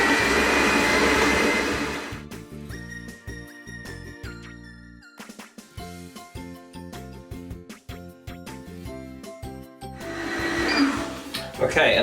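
An electric mixer whirs through cake batter at the start and end, with a stretch of light music and clinking in between; loud and close.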